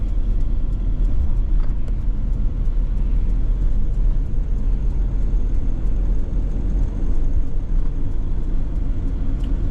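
A car drives steadily along an empty road in the morning, with a continuous low engine and tyre rumble that stays loud and even from inside the vehicle, with no talk.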